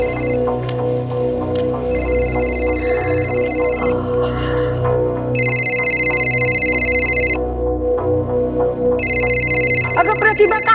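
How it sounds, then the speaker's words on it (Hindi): A telephone rings with a repeating electronic tone in about four two-second bursts separated by short pauses, steady and fairly loud over a low, droning music bed, with no clear talk. "बघा कुणाचा फोन आहे"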